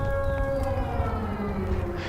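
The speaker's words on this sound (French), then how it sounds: "Alors ce bruit là, écoutez, c'est une sirène." A wailing siren in the War Thunder video game drones on steadily, a rising and falling electronic tone with a low rumble beneath it, loud and continuous.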